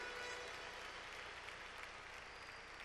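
A church congregation applauding in unison, a steady wash of clapping that holds fairly level for about three seconds at a moderate distance.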